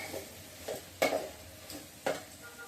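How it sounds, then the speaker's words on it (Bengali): Potatoes and spices mashed in a pan: soft squelching presses with a few sharper taps of the utensil against the metal, spaced irregularly and close by. "এবার আলুগুলাকে একটু ম্যাশ করে দিচ্ছি, একবারে সব কিছু একটু ম্যাশ করে দিচ্ছি।"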